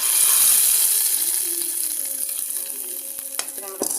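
Tempered mustard seeds poured into a pan of curry made with colocasia stems and green gram, a sizzling hiss that settles into quieter crackling, with a few light metallic taps of a spoon near the end.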